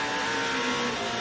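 Aston Martin race cars lapping the circuit at Le Mans, a steady broadband engine roar from 24 cylinders at sustained speed, loud and continuous with no talk over it.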